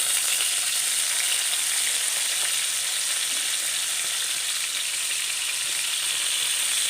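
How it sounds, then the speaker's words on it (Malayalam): Steady, dense sizzling of cut potatoes frying for French fries in hot coconut oil, a continuous crackling hiss with no voices. "വെളിച്ചെണ്ണയൊക്കെ നന്നായിട്ട് ചൂടായിട്ടുണ്ട് ഇനി ഇതിലേക്ക് ഈ അരിഞ്ഞ് ഊറ്റി വച്ചിരിക്കുന്ന ഈ ഉരുളക്കിഴങ്ങ് ചേർത്ത് കൊടുക്കാം"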